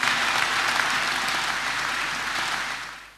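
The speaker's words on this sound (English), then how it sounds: "Clap for Jesus Christ." Congregation clapping at a church deliverance testimony service, steady dense applause filling the space, loud and sustained before tapering at the end.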